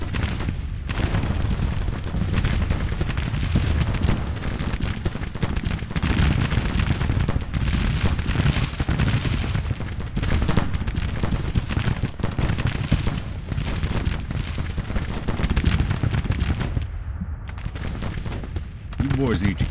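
Sustained Civil War-era musket volleys and cannon fire roll across a battlefield in the strategy game Grand Tactician, a dense, continuous crackle of massed rifles with deep booms, briefly thinning near the end.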